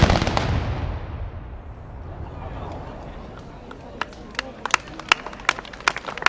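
Böller salute shooters at a Saxon shooting clubs' gathering fire a ceremonial volley: a heavy opening blast that rumbles away, then a rapid scatter of sharp, loud cracks toward the end, with people talking in the crowd.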